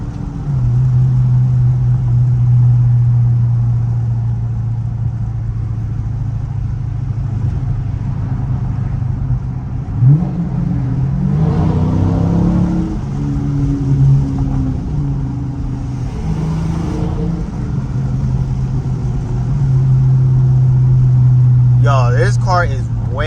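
A Dodge Challenger Scat Pack V8 in sport mode drives at steady load, its low engine drone continuous throughout with a brief rev surge midway, heard from inside the cabin as people talk over it.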